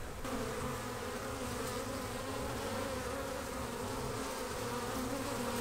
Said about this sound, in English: there are still bees coming and going from in here.